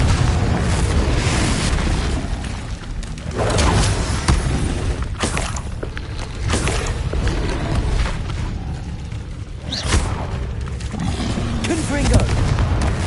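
Confringo blasting spells exploding repeatedly in the Hogwarts Legacy video game, a string of loud booming bursts and crackling impacts over a constant roar of combat noise, with a few sharp peaks standing out.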